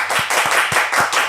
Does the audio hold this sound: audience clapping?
yes